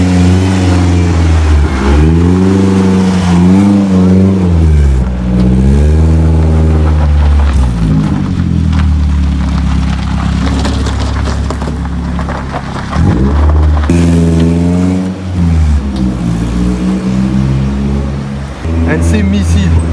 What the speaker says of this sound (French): La caisse là, elle tourne, on va faire un petit test, voir juste si elle avance, elle recule au moins